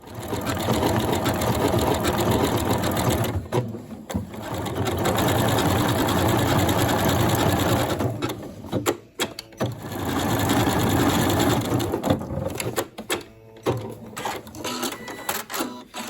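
A Janome Horizon Memory Craft 9480 QC Professional sewing machine runs in steady, fast bursts of stitching, close and loud. The motor's whir pauses briefly a few times before the stitching starts up again.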